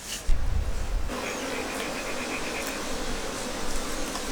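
A swarm of honeybees that has just left the hive, with beekeepers working to settle it, hums as a steady, dense buzz after a brief louder thump at the start, continuous and fairly close throughout.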